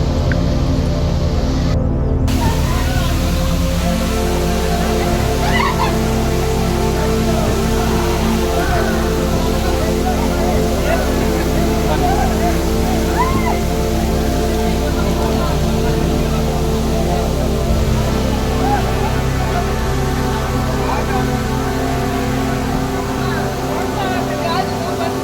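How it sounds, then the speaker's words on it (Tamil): Talakona waterfall near Tirupati, about 300 feet high, sends up a constant broadband roar of falling water. It continues steadily throughout, loud and close, while a voice narrates over it. "இதை வந்து தலக்கோணம் வாட்டர் ஃபால்ஸுன்னு அழைக்கப்படுகிறது."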